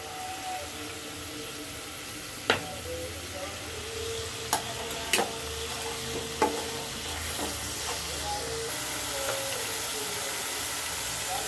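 Onion and chili paste frying in a pan for hilsa and taro curry, a low constant sizzle and hiss with a few scattered clinks of a stirring spoon, no talking.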